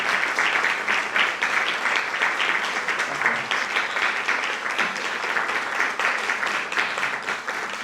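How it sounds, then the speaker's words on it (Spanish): Sustained audience applause fills the room after a lecture, a dense steady wash of many hands clapping at close range with no voices over it. "muchas gracias por sus aplausos"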